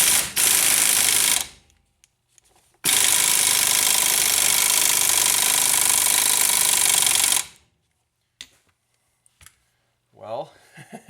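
A power tool drives a 19mm socket to loosen a Subaru ball joint, with two loud bursts of hammering, ratcheting clatter, the second running several seconds, separated by a pause and followed by quiet and faint handling noises.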